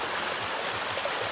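A bicycle rides through water on a flooded road in Brunei, with a continuous rushing, splashing wash of water spray and a few soft low thumps underneath.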